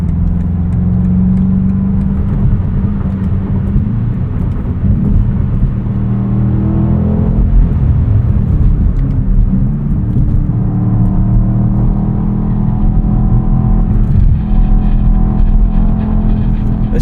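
A 2024 BMW X5 M SUV drives at night, its engine a steady, loud, low rumble heard from inside the cabin throughout, with light revving and road noise and no talk.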